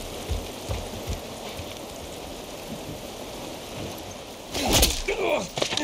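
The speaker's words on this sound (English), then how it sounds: "This rain ain't gonna do us any good." Steady rain falls throughout an outdoor scene in The Last of Us Part 1, a constant wash of drops with a few dull thuds early on and a louder cluster of impacts near the end.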